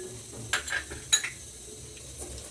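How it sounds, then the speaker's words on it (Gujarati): Fada lapsi, cracked wheat with jaggery and nuts, is stirred in a pressure cooker as the jaggery melts. A spoon scrapes and clinks against the metal pot in a few short bursts, with a faint sizzle underneath. "ગોળ ઓગળી જાય ત્યાં સુધી એને મિક્સ કરીશું."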